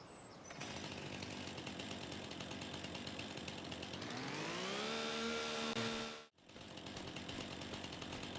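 A chainsaw trims cut-down deadwood in a field, running at a steady loud whine, then revving higher as the blade bites, before cutting out abruptly and idling back up.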